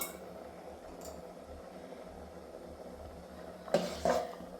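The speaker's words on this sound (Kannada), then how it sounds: "ಈಗ ಹುರ್ಕೊಂಡಿರೋ ಗೋಡಂಬಿ ದ್ರಾಕ್ಷಿ ಹಾಕೋತಾ ಇದ್ದೀವಿ." Fried cashews and raisins tipped into a pot of vermicelli and moong dal payasa, a faint steady background hum broken near the end by a couple of short clinking metal utensil knocks.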